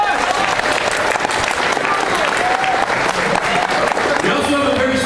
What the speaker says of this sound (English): big round of applause for yourselves